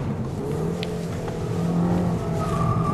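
A 2007 Audi TT is driven hard around a track, its engine note droning steadily and swelling slightly louder as the car pushes on, with no talk.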